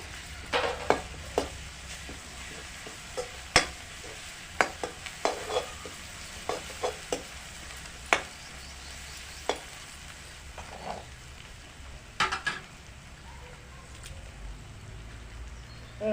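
Crushed ginger-garlic paste is stirred into a curry of broad beans with turmeric, giving a soft background sizzle broken by repeated sharp clanks and scrapes of a spoon against the pan at irregular intervals.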